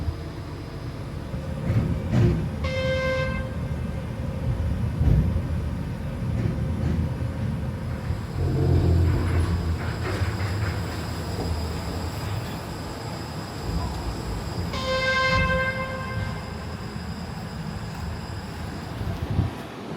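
The Dajue Mountain cliff train runs on its rails with a continuous rumble and wind noise throughout, plus two brief tonal chimes or horn-like signals partway through.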